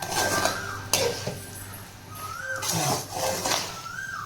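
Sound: stirring cold rice in a hot pan

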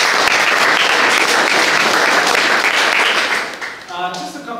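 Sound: round of applause

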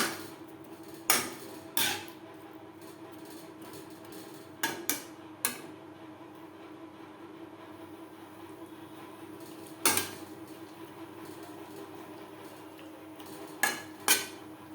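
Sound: stirring pointed gourd with spices and yogurt in a pan

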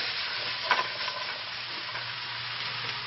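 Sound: zucchini and peppers frying in a frying pan

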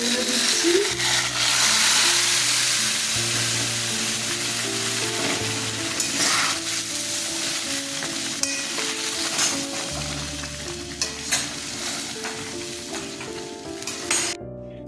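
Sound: chillies frying and stirred in a pan

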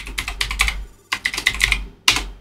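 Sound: typing a password on a computer keyboard

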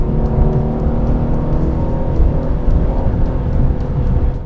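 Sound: Aston Martin DB11 V8 engine accelerating in manual mode

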